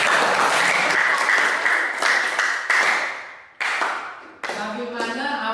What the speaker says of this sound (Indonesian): Tepuk tangan kepada aparat saya